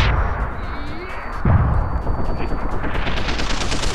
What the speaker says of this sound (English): Here, have some grenades.